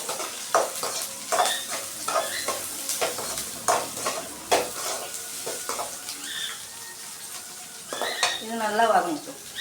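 Onions and chillies fry in a pan with a steady crackling sizzle, while repeated sharp scrapes and clinks of a metal spoon stirring against the pan sound close and distinct throughout.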